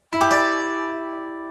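An electric guitar strums a single triad chord high on the neck once, ringing clearly and sustaining as it slowly fades.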